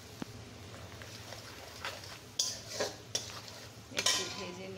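Dried chili powder and turmeric powder frying in a pan for a beef curry, a soft low sizzle under a few sharp scrapes and clinks of a utensil stirring, close by and fairly quiet.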